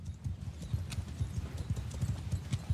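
Horses galloping in Bannerlord, a battle game, with cavalry in the Warhammer Old Realms setting: fast, steady clip-clop hoofbeats thudding close and continuous, no speech over them.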